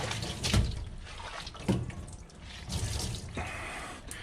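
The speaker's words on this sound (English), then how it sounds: "I'm going to take and wring it with my hand and wring that water out best I can." Water squeezed by hand from a washed otter's fur, heard as close wet drips and splashes in a few bursts, with quieter trickling in between and no talking.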